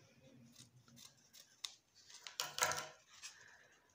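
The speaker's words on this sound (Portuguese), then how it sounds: "Aqui, ó, dobrei e vou cortar." Scissors cutting folded satin ribbon for a pinched ribbon flower, a few quiet, close snips with soft blade rubbing that builds to one sharper cut near the end, no talk.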